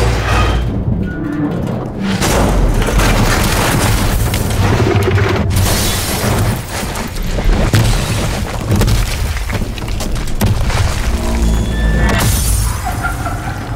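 Dense, loud barrage of booming explosion and impact sound effects, layered with shattering debris, morphing sounds and deep rumbling, continuous with no talking.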